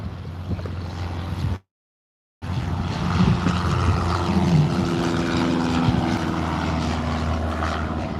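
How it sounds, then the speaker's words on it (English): An EasyJet airliner passes over a small airfield. A steady, loud engine drone fills the air, briefly cut by a short dropout, then continues as the aircraft moves overhead. "we have got an EasyJet just going over the airfield now, and it looks like it is on the way into Liverpool"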